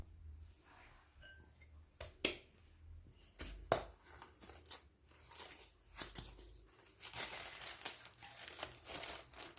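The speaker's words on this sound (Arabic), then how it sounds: "غناخذ واحد البابي سولفيريزي وغادي نلويها فيه" Tart dough is wrapped in plastic cling film, giving quiet crinkling and rustling with a few sharper tearing snaps scattered irregularly over nearly ten seconds, close but low in level, without speech.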